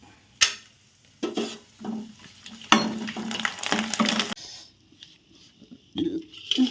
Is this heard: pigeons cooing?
no